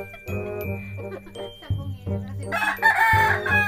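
A rooster crows close by, a loud cock-a-doodle-doo repeated in strained phrases, with jingling and bird chatter around it in a garden setting.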